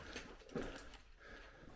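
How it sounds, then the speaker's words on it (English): Climbing rope gear clinks and rattles in soft metallic bursts as someone walks through an abandoned ironstone mine tunnel, faint and close with uneven steps. "I do apologise about the noise, but I've got my rope gear on still."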